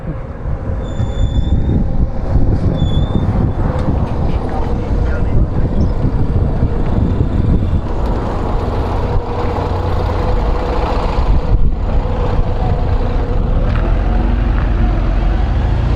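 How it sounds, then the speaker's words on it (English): A big yellow school bus passing close by, a loud heavy rumbling roar with squealing and rattling that swells and fades over several seconds. "Yes, big yellow bus."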